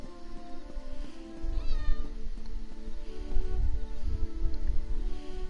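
A cat meows in an Elder Scrolls video game, a short, close meow heard once amid a busy, droning game soundscape.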